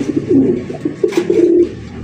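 Pigeons coo nearby, loud and close, in a run of low, rolling, throaty calls with short pauses, a female among the flock calling; no speech.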